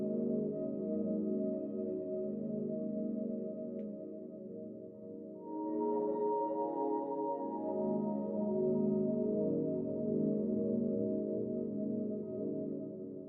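Ambient synth pad sample from Splice, low end cut and drenched in reverb, a sustained, warm harmonic wash that swells softly and holds steady without any percussion.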